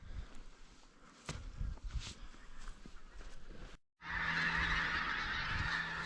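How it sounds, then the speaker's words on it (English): Many geese honking noisily together as a flock takes off from a field in Scotland, loud and close, with a brief break before a dense wave of calls. "All of these geese here have just taken off in the field"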